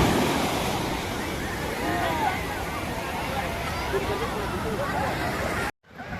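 Ocean surf washing steadily onto a beach, a continuous broadband roar of breaking waves with a few wind bursts, cutting out abruptly near the end.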